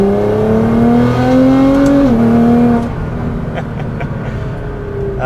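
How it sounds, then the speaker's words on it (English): A straight-piped 700 hp Nissan GT-R R35 accelerates hard, its loud, close engine note climbing steadily through the revs before a sudden drop-off as the throttle lifts, leaving a lower idle-like rumble with faint pops. "The last time really getting a rip on the car, straight piped, 700 horsepower, all that good stuff."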